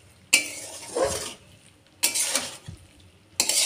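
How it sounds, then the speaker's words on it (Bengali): Small fish curry with coriander leaves being stirred in a pan: three separate bursts of spoon scraping and stirring against metal, close and moderately loud, with brief quiet gaps between them. "আমি এবার একটু একটু নাড়িয়ে দেবো ধনেপাতা দিয়ে।"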